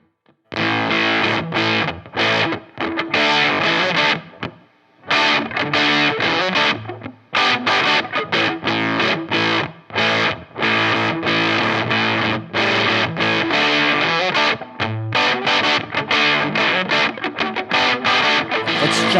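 Guitar distortion effects unit on its first level with the gain turned up high, producing a loud, dense, saturated tone played in continuous riffs with a few brief pauses.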